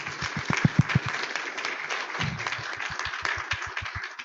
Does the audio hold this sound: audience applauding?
yes